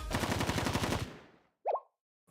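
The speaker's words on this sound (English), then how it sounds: "Just the sound of gunshots." Gunfire in the video game Blue Archive, a rapid burst of automatic shots that fades out over about a second, followed by a short separate game sound effect, with no talk.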